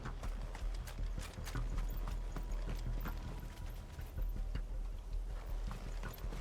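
A horse's hooves clip-clop in a steady trotting rhythm in the video game Final Fantasy XVI, close and continuous over a low rumbling background.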